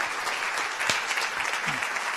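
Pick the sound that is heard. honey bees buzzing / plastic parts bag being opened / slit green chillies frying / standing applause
standing applause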